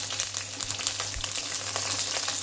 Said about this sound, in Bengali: এবার দেখো একটু ভালোভাবে একটু কাঁচা লঙ্কাও ভেজে নিচ্ছি